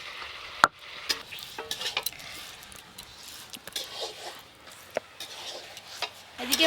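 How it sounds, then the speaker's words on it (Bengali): Chicken meat and ground spices with cumin and dried chillies frying in a pan, with a soft continuous sizzle broken by repeated close scrapes and knocks of stirring; no talking. "এদিকে মশলা আর মাংস ভাজা ভাজা হতে হতে"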